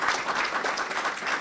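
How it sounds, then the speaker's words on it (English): An audience claps for presenters at a U.S.-Japan workforce dialogue, brisk continuous applause filling the whole moment at close range. "I would like to everyone to give a round of applause to our presenters."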